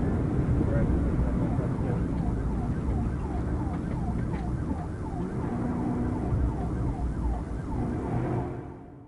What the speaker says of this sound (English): Sirens scream, speeds soar to 120 miles per hour.